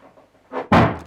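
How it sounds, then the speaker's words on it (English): A door bangs shut in a quiet building during a nighttime investigation, a single loud, sudden slam preceded by a soft creak or swing, close and alone without talk. "That door shut."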